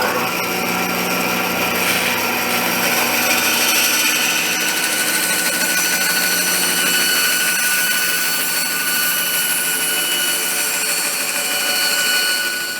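A power saw cuts through maple for a vanity stool, giving a loud, continuous whining roar with a steady tone. It holds evenly for the whole stretch with no talking over it.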